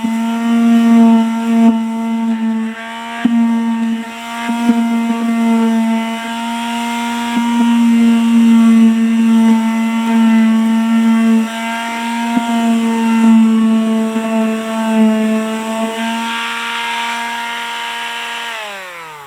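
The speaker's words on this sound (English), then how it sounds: "Time to get a sanding." A power sander grinds on a resin-coated styrofoam piece with a close, sustained motor whine for about nineteen seconds, dipping briefly a few times as pressure shifts.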